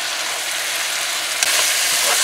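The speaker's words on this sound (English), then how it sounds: "soon this is gonna start frying in its oil" Pork sizzles and crackles steadily frying in its own fat, a bright, close hiss with occasional pops and no voices.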